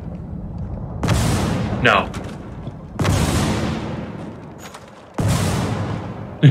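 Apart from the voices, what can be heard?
gunfire from a gun in a video game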